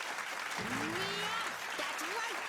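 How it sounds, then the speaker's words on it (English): Recorded applause from a stream sound alert plays at moderate volume while a voice speaks over the clapping. "Thank you for that applause."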